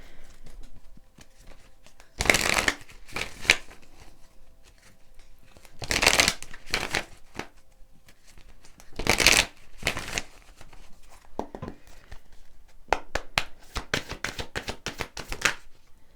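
A deck of moon oracle cards is riffled and shuffled close up in a tarot-style reading, with several loud bursts of card flapping separated by quieter handling, ending in a quick run of repeated riffles.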